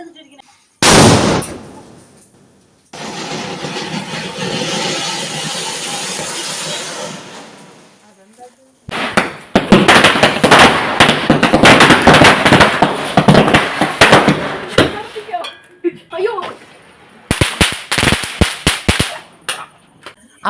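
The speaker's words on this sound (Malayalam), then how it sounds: "അപ്പോൾ നമ്മുടെ വിഷുവിൻ്റെ പടക്കങ്ങളൊക്കെ പൊട്ടിച്ചു ഒരുവിധം ഇന്ന് പൊട്ടിച്ചു." Firecrackers burst at midnight on the night before Vishu: a sharp loud bang, a long hissing crackle of burning fireworks, then a dense run of rapid pops and cracks near the listener, ending in a few last scattered bursts.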